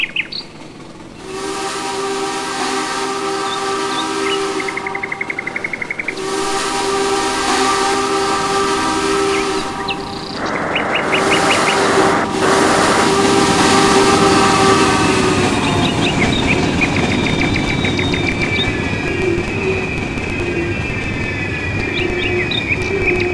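K&L Southern PS-4 steam locomotive in Trainz 2019 blows long, loud chime whistle blasts over steady rolling train rumble, with a rising final sustained blast; no talking.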